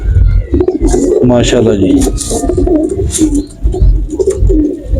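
Pigeons coo in a loft, with repeated soft throaty calls close by under someone talking, plus some background rustling and faint chirps.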